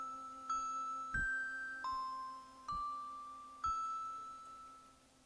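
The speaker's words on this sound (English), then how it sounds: "I'm taking my left hand and just playing those notes. That's Jingle Bells." On a keyboard, a left hand plays the Jingle Bells melody in separate bell-like chimes while one held note rings steadily underneath, each struck tone decaying before the next.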